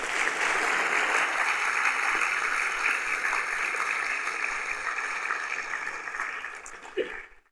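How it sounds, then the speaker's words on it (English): Sustained audience applause at a primary schools' official launch event, dense steady clapping that carries on for several seconds before tapering off and ending. "I think we should give ourselves an"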